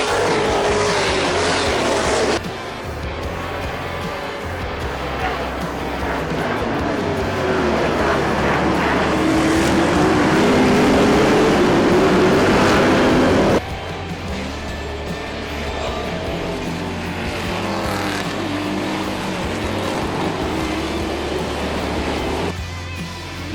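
NASCAR race cars in the Canadian NASCAR championship roar around the track, engine drones swelling and fading as cars pass, continuous and moderately loud.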